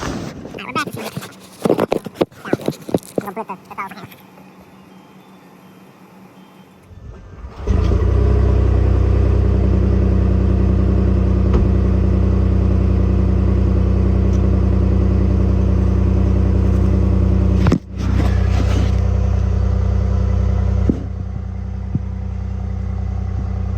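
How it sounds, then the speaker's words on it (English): A 2024 Ford F-150 PowerBoost with its resonator deleted roars into a loud, sustained engine rev after a stretch of voices and clatter, dipping briefly once before droning on up close. "let me go and just click the throttle with my hand"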